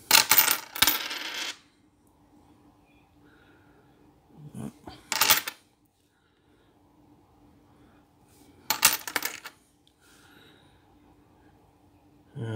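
Australian one dollar coins clink and jingle as they are handled and sorted, coming in several short bright bursts separated by quiet pauses with faint rustling.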